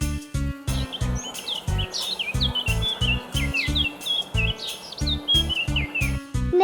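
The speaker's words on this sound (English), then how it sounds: "Birds." Birds chirp and tweet in quick, scattered calls over a steady, thumping musical beat in a children's nursery song, the chirps bright and continuous throughout.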